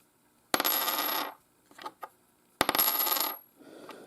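A metal 12.5 cent coin drops onto a hard surface twice, each time ringing and spinning with a bright metallic rattle that settles after about a second.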